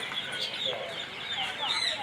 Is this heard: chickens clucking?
yes